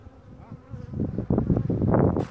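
Honey bees buzz around a hive during rapeseed bloom, a soft hum at first that swells into dense, close, loud buzzing of many insects passing near, with no talking.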